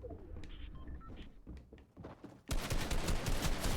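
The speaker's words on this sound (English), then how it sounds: "I can hear them, and they're shooting at me." Gunfire in the video game Fortnite: a scatter of sharp shots and clicks, then a sudden dense burst of rapid, loud firing that fills the final second and a half.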